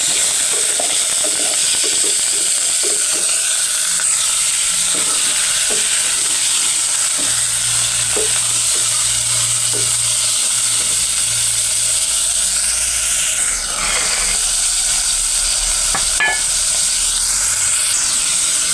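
Chicken pieces sautéing in a pan for tinola give a steady, loud broadband sizzle with a few soft stirring scrapes, continuous throughout.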